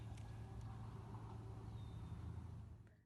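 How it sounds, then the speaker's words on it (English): Distant car traffic outdoors produces a steady, low, continuous rumble. It stays faint and even for about three seconds, then fades out at the end, with no talking. "the prominent noise source that we're going to hear mostly are cars"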